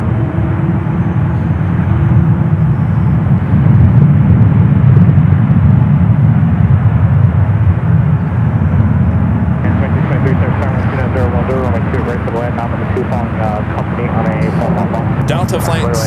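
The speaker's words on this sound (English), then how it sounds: "Got an E-jet now rolling down that 28 left" An Embraer E-jet takes off on runway 28 left at San Francisco airport, its engines a loud, broad roar throughout; a voice speaks over the noise in the second half.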